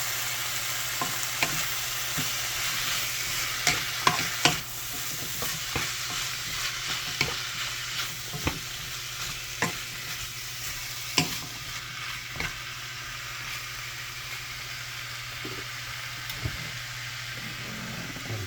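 Upo, a bottle gourd, is sautéed in a pan and stirred repeatedly, sharp scraping and clicking strokes at an irregular rhythm over a constant close sizzle, with no voices.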